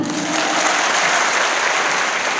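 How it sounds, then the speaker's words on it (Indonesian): Audience applause at an Islamic sermon gathering on Nuzulul Quran night, an even, unbroken wash of many hands clapping at steady loudness throughout. "Tepuk tangan."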